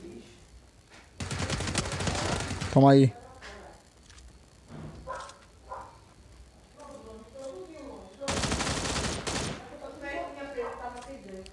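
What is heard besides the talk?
gunfire in a video game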